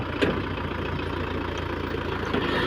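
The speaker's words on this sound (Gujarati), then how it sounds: "આપણે ટ્રેક્ટર જુઓ ચાલુ છે" A tractor engine idles steadily nearby during potato planting, a low continuous chugging rumble with no voices.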